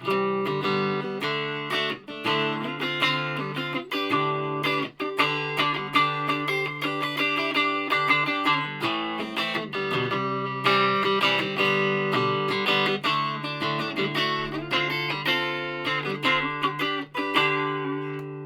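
An Ibanez RG140 electric guitar plays through a Laney HCM30R amplifier at low volume with no pedals engaged, giving a clear run of rhythmic picked chords and notes that continues steadily and alone, without talk.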